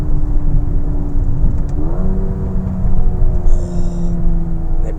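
A 2019 Mercedes A35 AMG engine and exhaust rumbling steadily while driving, loud and close, with a revving rise in pitch partway through; no talk is heard.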